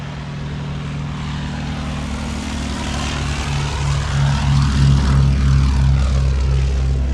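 A Westland Lysander propeller aircraft takes off at an evening air show, a steady droning engine and propeller hum that swells gradually louder and rougher as power builds.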